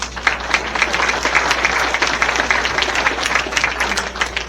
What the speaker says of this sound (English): So they get their own special applause.